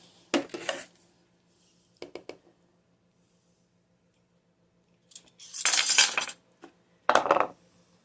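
A glass jar of carrots set back into a pressure canner, heard as a few sharp clinks and knocks spaced out over a quiet background, with clustered clattering contact sounds near the end.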